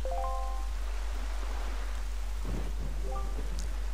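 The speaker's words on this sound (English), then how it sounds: "Everywhere else boasts clear skies and calm seas, but this place suffers under dark clouds and rain." Steady rainfall with a rumble of thunder in the video game The Legend of Zelda: The Wind Waker, a continuous wash of rain under a low hum, with brief chiming tones at the start and near the end.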